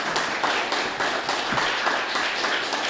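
An audience at a public talk about numbers and statistics applauds steadily: dense, even clapping from a crowd for about three seconds, with no voices over it.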